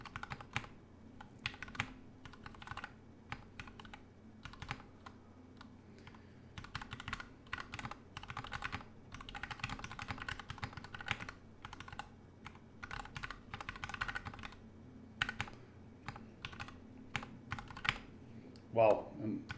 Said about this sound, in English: Wow, I'm having a hard time typing.